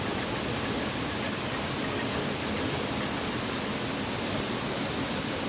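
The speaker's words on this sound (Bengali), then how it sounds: "শব্দ শুনেই বুঝতে পারছেন কি অসাধারণ এই ঝর্ণাটি" Krangsuri waterfall in Meghalaya roars as a steady, dense wash of falling water, loud and unbroken throughout with no voices.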